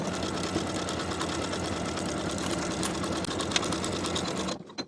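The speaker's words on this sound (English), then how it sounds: "Sew from the bottom of the sleeve to the bottom of the bodice with one continuous set of stitches with a 5/8 inch seam allowance" A sewing machine runs steadily while stitching a cardigan's sleeve and bodice side seam in one continuous pass, a close, even mechanical whir that stops abruptly at the end.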